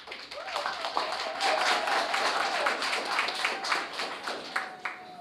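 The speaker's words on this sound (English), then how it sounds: "I think it deserves at least a round of applause." Audience applause fills a debate hall after a question-and-answer round between National Irrigation Commission and Ministry of Agriculture, Fisheries & Mining teams, steady dense clapping sustained throughout with crowd murmur beneath.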